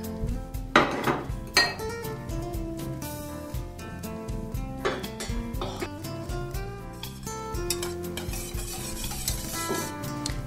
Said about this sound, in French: le beurre va fondre petit à petit et il est important de remuer très souvent pour éviter que la préparation accroche au fond de la casserole